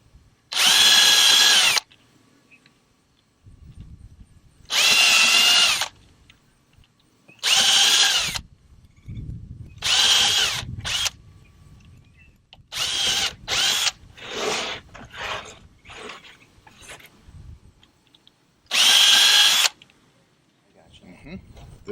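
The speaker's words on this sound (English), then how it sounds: "Now we're going to pre-drill these holes so that the screws don't split the board." A power drill bores pilot holes for screws in a wooden board while building an American Kestrel nest box, in about seven loud bursts of whining drilling separated by quiet gaps with handling noises and some speech.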